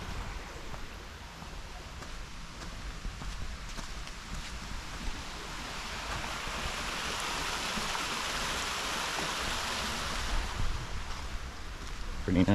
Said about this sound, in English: Some water finally flowing after some rains right before the New Year.